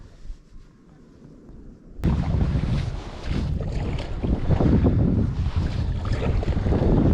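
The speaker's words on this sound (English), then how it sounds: "And now wind," Onshore wind rushing over the sea off Three Cliffs on the Gower coast, heard from a paddleboard, starting quiet then bursting into loud, steady buffeting gusts across the microphone for the rest of the stretch.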